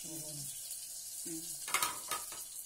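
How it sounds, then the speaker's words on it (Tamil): Ginger garlic paste is stirred in a pan for spiced seeded-samba masala rice. A faint sizzle runs underneath, and a few quick spoon scrapes near the end follow brief murmured speech. "இஞ்சி பூண்டு பேஸ்ட் கிண்டிக்கிறீங்க."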